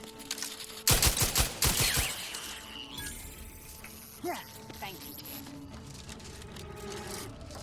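Rapid bursts of enemy gunfire in the shooter The Outer Worlds 2, a loud, clattering volley of shots lasting about a second, then scattered impacts, with a player talking over it.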